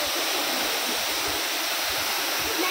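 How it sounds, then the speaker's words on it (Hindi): A tall natural waterfall, with spray and a rainbow forming, roars as a dense, steady rush of falling water, loud and close, with no break and no voices. "ये वाटरफॉल कितनी ऊपर से आ रहा है बताओ यार"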